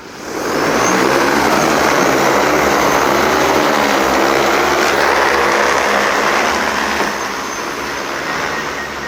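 Agricultural spraying drone lifting off beside a rice paddy near a greenhouse, its propellers building to a loud, steady broadband roar that holds close and constant, easing slightly near the end.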